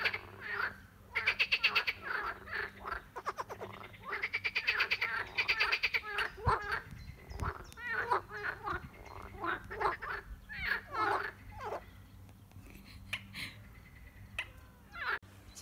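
Frogs croaking loudly in a park pond, a dense chorus of rapid, gargling, repeated calls rising and falling in overlapping bursts, fairly close with no talking.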